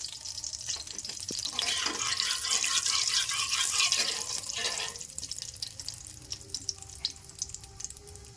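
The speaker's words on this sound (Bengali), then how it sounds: "পাঁচ ফোড়ন আর শুকনো লঙ্কা ফোড়নে দিয়ে দিচ্ছি।" Panch phoron spices and dried red chilies hit hot oil, a close, bright hiss of sizzling that swells for a few seconds then settles into a softer crackle, with no talk.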